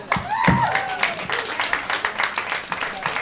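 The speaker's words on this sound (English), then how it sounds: "Captain Wright, everybody, clap for him." A comedy club audience in Orlando claps for a comedian, with rhythmic, fairly close hand claps and some cheering after a shout; a voice talks at the start.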